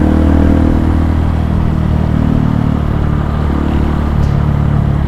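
A Honda CRF 150 motorcycle rides through congested city traffic, its engine droning steadily with a slight dip in pitch midway, loud and close with wind and road rumble.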